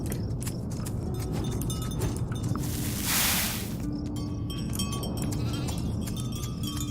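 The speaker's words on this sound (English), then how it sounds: "That's a lot of cows and goatsy." Goats bleating in the farming video game Farm Together, with several short bleats scattered over a busy layer of farm ambience, one brighter noisy burst in the middle and no talk.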